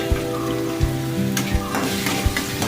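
Chopped onion and tomato sizzle and fry in a pan for channa masala, a steady crackle broken by a few sharp stirring knocks of a utensil against the pan.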